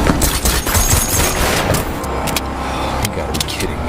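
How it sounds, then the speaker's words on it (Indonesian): A shootout in a film about a former Russian soldier: loud bursts of rapid gunfire crackle over a dense, rumbling action mix, with sharp repeated shots clustering toward the end. "Aksi tembak-tembakan pun kemudian terjadi, di mana Sam dan Alice menghabisi"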